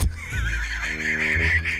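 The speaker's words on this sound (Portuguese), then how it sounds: "Mini cavalinho!" A small horse in GTA V gives a short, clear neigh, a wavering whinny that rises and holds near and alone for under two seconds.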